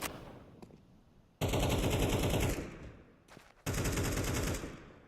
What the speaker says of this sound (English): Oh, that's just a timing shot there from NQZ.